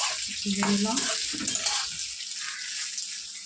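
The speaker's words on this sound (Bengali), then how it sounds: "আর এই ছোলার ডালটা ব্যাস ভাজবো ভালো করে ভেজে নিতে হবে" Split chickpeas (chana dal) frying in a pan for an idli chutney give a steady, close sizzle with a few soft scrapes of stirring early on, and no one talks.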